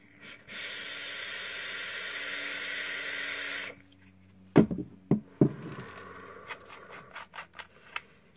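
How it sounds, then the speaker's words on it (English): A Wismec Theorem e-cigarette gives a steady airy hiss during a long draw of several seconds, followed by breathy exhales and scattered rubbing clicks, all close and fairly quiet. "Let's take a vape."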